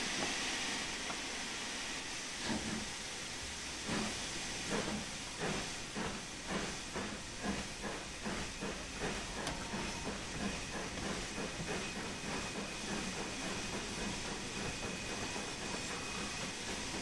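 Steam locomotive in Train Sim World 3 on the Peak Forest line between Ambergate and Chinley, hissing steam steadily with rhythmic chuffing pulses building as it sets off, loud and continuous without talk.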